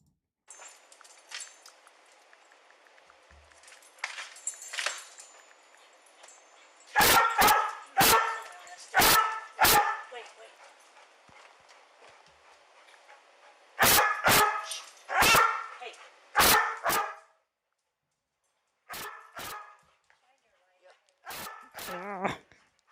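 Several police K9 dogs bark in loud bursts and clusters during a house search, separated by brief pauses, with quieter background chatter and a few yips.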